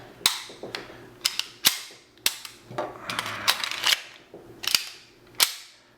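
Metallic clicks, snaps and sliding clacks come from a CZ85 or Tanfoglio Witness pistol as it is reassembled and its frame is fitted back together. The sounds are close and irregular, with several crisp sharp snaps.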